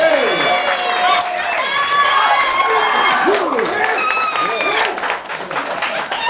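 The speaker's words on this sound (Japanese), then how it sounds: "春日さんに盛大な拍手を" An audience at a live music session applauds and cheers for the opening act, a sustained wash of clapping with whoops and shouts, while tonal music carries on underneath.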